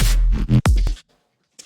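A plain, dry, unprocessed bass chop sample in Bitwig, a short burst of choppy bass hits lasting about a second, then silence, loud and close.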